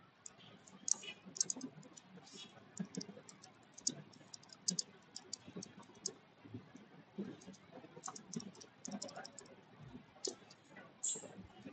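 Someone typing a file name on a computer keyboard, with steady, light, close key clicks running throughout and quiet speech faintly in the background.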